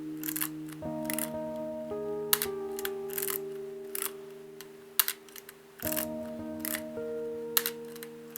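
A FED Micron film camera on auto mode fires its shutter, giving sharp mechanical clicks spaced a second or two apart, close and quiet against a steady tonal hum in the background.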